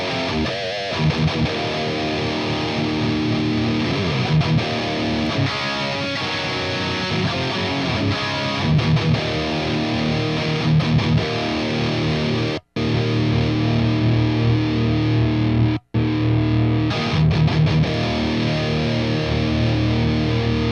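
Electric guitar played through a Headfirst Alta amp with the boost pedal switched off, a loud, sustained distorted riff with driven chords running steadily, broken by two brief cuts to silence near the end.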